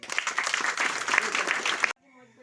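Loud applause fills a prayer meeting for about two seconds, a dense burst of many hands clapping that stops abruptly, followed by a faint tonal sound.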